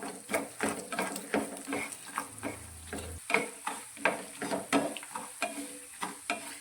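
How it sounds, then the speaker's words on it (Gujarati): Cumin and coriander seeds sizzling in hot oil in a pan, broken up by a spoon scraping and stirring in repeated quick strokes. "તેને પણ થોડું તેલમાં આપણે સાતળી લઈશું"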